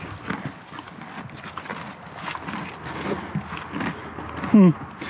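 Horse hooves clip-clop steadily at close range while a person talks over them, ending with a brief squeaky sound.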